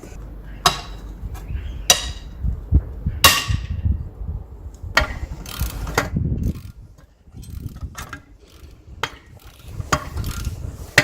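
A wrench tightening a bolt while fitting coilovers to an Audi TT 8N, heard as sharp metallic clicks and clunks spaced irregularly over low workshop rumble.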